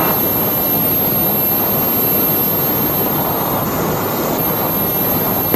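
A small airplane engine drones steadily in level cruise flight, a loud, constant broadband roar heard from inside the cabin with no talk.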